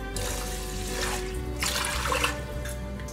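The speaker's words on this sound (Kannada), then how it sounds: "ಇವಾಗ ಇದಕ್ಕೆ ನೀರು ಹಾಕೊಳ್ಳೋಣ." Water is poured into a pressure cooker holding rice and split moong lentils, a steady close splashing gush lasting a few seconds with no talk.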